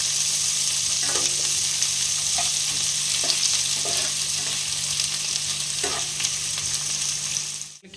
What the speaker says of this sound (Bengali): পেঁয়াজটা দিয়ে দিচ্ছি এটা ভেজে নেব বেশ লাল লাল করে